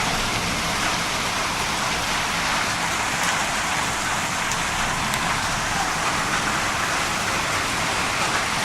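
Heavy rain pours steadily through a thunderstorm in Alta Gracia, a dense, constant broadband roar of water hitting streets and surfaces, loud and unbroken throughout with no voices.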